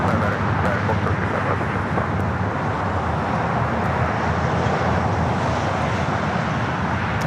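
A Delta A321 airliner touching down on the south runway at LAX gives a steady, broad jet roar, continuous and even in loudness throughout.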